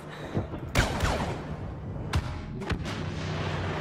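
Blaster cannon fire in a Star Wars Battlefront battle: loud, booming shots, one near 0.8 s and another near 2.2 s, with smaller bursts between them over steady rumbling battlefield noise, and no speech.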